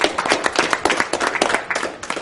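A small group clapping in a quick, uneven patter for a couple of seconds, close and fairly loud, with no voices.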